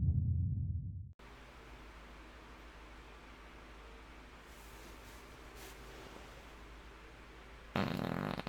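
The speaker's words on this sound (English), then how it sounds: "every week I do one of these and I just have ridiculous farts" A fart sounds in a low, loud burst at the start, then steady quiet hiss follows, and near the end comes a second brief rough burst.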